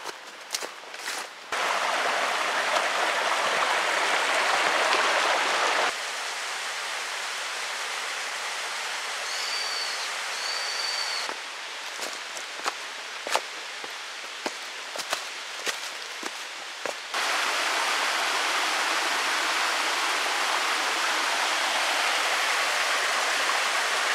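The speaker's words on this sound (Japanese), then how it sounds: "11時5分、なめら滝でした。" The Namera waterfall on the Tengu mountain trail in Masuda, Shimane, rushes as a steady, broad roar. It changes level in abrupt steps as the listening position shifts, with brief clattering knocks in the middle stretch.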